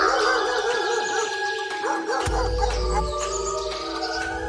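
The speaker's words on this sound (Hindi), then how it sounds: "बाहर कुत्ते के भौंकने की और कौवे के काय काय की लगातार आवाज आ रही थी।" Dogs bark and yelp outside at night, sometimes drawing out into whining howls, layered over sustained tonal background noise with a sudden low rumble partway through.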